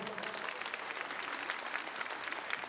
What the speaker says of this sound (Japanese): どうぞ拍手の方お願いします。